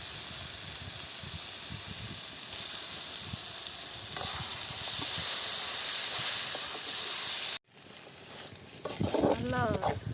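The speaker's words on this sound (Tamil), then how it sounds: "கண்ட்ரி சிக்கனை போடுறோம்." Country chicken cooks in a pan with a continuous hissing sizzle and faint stirring, the steam noise cutting off abruptly before a voice speaks near the end.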